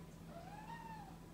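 A single cat gives one soft, rising-then-falling meow, fairly faint against a quiet indoor background with a low steady hum.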